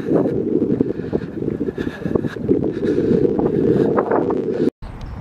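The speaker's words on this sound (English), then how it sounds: "Ooh, it's windy." Wind blowing outdoors on a walk through a residential area, a steady broad rushing buffeting the microphone throughout, loud and close, cut off briefly near the end.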